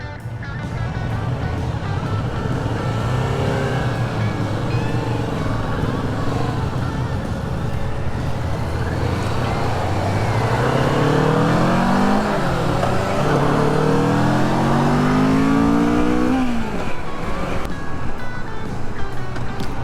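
Several Kawasaki motorcycles ride together in formation on the road, engines droning steadily throughout and rising in pitch as they accelerate near the middle, with a loud, continuous close-up engine tone and no talk.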